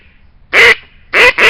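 A duck call blown to imitate a frightened duck flushing and flying off, giving three loud, fast raspy quacks in quick bursts with brief pauses, close and alone.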